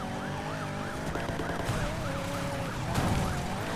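Police car siren in the racing game Need For Speed Payback, a steady wailing tone that rises and falls repeatedly, loud and continuous over game engine and crash noise.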